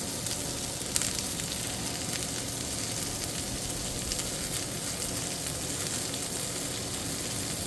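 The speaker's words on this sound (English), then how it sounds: "So we're going to stir this around just a little bit." Herb-seasoned chicken thighs sizzle steadily and loudly in a skillet for the whole stretch, with a dense, continuous frying hiss and faint scraping as the pieces are stirred around.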